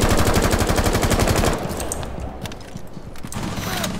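Rapid automatic gunfire in Rainbow Six Siege, a loud, tightly spaced burst for about a second and a half, then scattered shots and clatter at a lower level.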